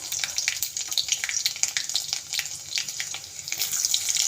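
Curry leaves and chopped garlic crackle loudly in hot oil for a tempering, a dense close spitting sizzle with quick popping bursts throughout and no talking.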